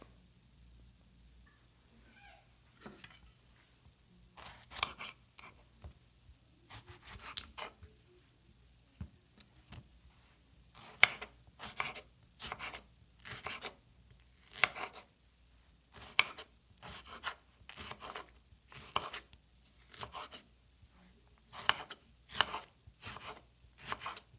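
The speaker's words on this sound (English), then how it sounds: "let's chop the tomatoes into thin long strips" A knife chopping tomatoes into thin long strips on a cutting board for chana masala, a chickpea curry: a steady series of crisp, close chops in short bursts with brief pauses between, alone with no talk.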